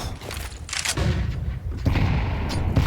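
A grenade detonates during a professional Counter-Strike match, a muffled boom followed by rumbling gunfire, heard at moderate volume with no clear talk over it.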